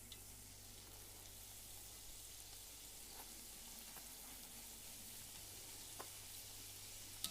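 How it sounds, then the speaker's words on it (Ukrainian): Quiet, steady sizzling of homemade egg-yolk doughnuts frying in hot oil over medium heat, over a low hum, with a few faint crackles and pops. "І смажимо на середньому вогні до готовності."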